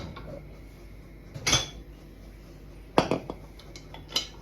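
A lid goes onto a thick pressure cooker with a few separate metallic clanks and clinks, close and moderately loud, spaced across quiet kitchen background with no talking.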